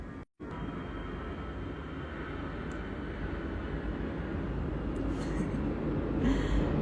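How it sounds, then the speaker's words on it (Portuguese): Airplane noise swells as a broad, steady rumble that builds gradually over several seconds, growing louder toward the end like an aircraft approaching overhead, with no talk in the clip. "vai ter barulho de avião aqui"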